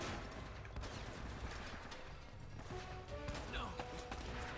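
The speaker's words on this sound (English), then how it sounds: "So we'll just shoot the padlock." Gunfire shooting off a padlock in the video game Uncharted: Drake's Fortune, a few sharp shots mixed into dense game sound effects and ambience, fairly loud and close.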